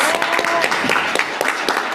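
An audience at a school board meeting breaks into sustained applause, many hands clapping densely and steadily at close range.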